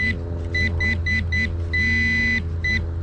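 A metal detector signals a target at low sensitivity with repeated rising-and-falling warbling tones, about six short beeps and one longer sustained tone, loud and close over a steady low hum.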